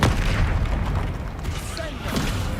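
Booming spell blasts from the Bombarda curse in the video game Hogwarts Legacy, a dense run of thuds and impacts mixed into continuous battle noise, with a voice shouting over the fighting.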